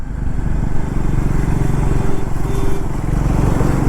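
A Triumph Scrambler 400X motorcycle rides over a bumpy road, its engine a loud, steady low rumble with wind noise throughout.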